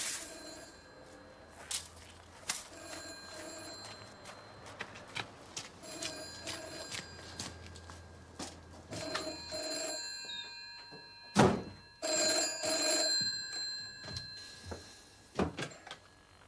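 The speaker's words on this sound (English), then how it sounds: "None of Bertram's friends or neighbours remembers ringing him that afternoon." A telephone rings inside a house in a 1985 crime reconstruction, its bell sounding in repeated bursts among scattered knocks and thuds, fairly faint and set in a quiet room with no voices.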